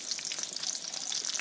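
A Delmonico steak sears in a hot pan with garlic and butter, giving a steady, bright, crackling sizzle that stays close and continuous with no talking.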